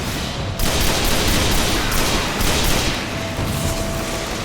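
Rapid, loud, sustained gunfire from a new gun in the video game Destiny, played as a Titan, firing in a dense continuous burst with a brief break near the start.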